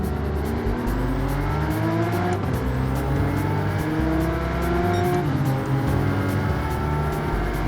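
Porsche 992 Turbo S in Gran Turismo 7 accelerating hard out of the Mulsanne corner, its engine note rising steadily through the gears for several seconds, loud and close, with tire noise underneath and no talk.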